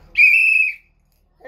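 A single clear whistled note from a person, bright and steady for about half a second, close and loud, followed by silence.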